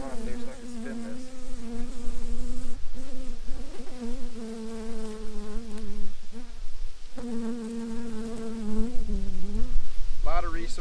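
Honey bees swarm in a loud, steady buzz around an open double-deep brood box, a dense drone with wavering pitch that rises and falls as the bees shift, continuous and close throughout.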